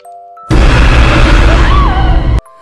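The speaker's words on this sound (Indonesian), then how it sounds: "Saat itu suara gemuruh datang dari kamar Josh dan saat dibuka kamar Josh sudah berantakan" A loud, sudden rumbling crash from a boy's bedroom in a horror film bursts in and roars for about two seconds, then cuts off abruptly into a quiet room.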